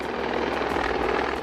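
An MH-60 Romeo naval helicopter roars steadily with a dense, continuous rotor and engine wash, loud and close, with no voices.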